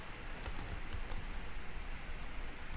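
Rapid keystrokes click on a computer keyboard, quiet and close, forming an uneven stream of light taps with no voices.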